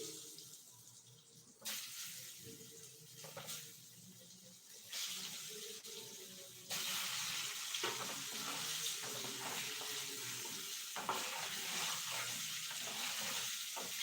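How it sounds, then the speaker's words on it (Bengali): Potato pieces frying in oil for a spicy Bengali egg curry, a steady crackling sizzle that grows louder and denser partway through, with occasional stirring scrapes and no talk. "আলুটা একটু লাল লাল করে আমি ভেজে নেবো"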